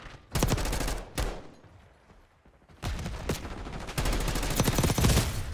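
Rapid automatic gunfire in the shooter Black Ops 6, loud close bursts broken by short pauses, with one quieter stretch in the middle before firing resumes in longer sustained volleys.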